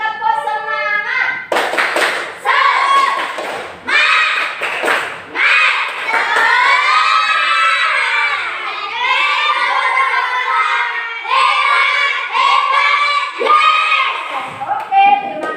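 Schoolchildren in a classroom perform a tepuk semangat clapping chant, loud rhythmic group claps and thumps mixed with shouted chanting voices, with the teacher's talk in between.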